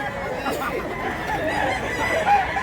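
A rooster crows nearby at a busy gamefowl market, a short strained call over a murmur of chatter and other birds.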